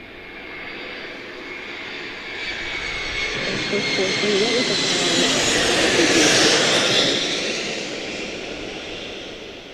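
Jet airliner engines at Charlotte-Douglas International Airport, a broad roar that builds gradually, peaks loud near the middle as the aircraft passes, then fades, with faint radio voices beneath.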